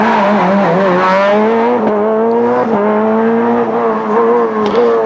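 Peugeot 207 S2000 rally car at the Rallye du Valais, engine note rising and falling steadily as it drives hard through gear changes, loud and close throughout.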